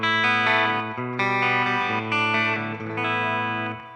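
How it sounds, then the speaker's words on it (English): A distorted electric guitar plays sustained chords through a Deluxe Reverb amp, with a shimmering wash of reverb trailing each strum. "That's the sound of the deluxe reverb."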